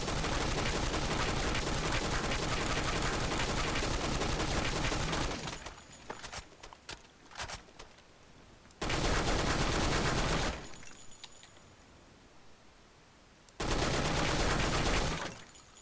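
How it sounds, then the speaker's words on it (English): Crouched tap fire from the NX rifle in the video game Blackshot: three loud, dense bursts of rapid shots, close and dry, separated by quieter gaps with scattered faint clicks. "So now what we will do is we will crouch, tap fire."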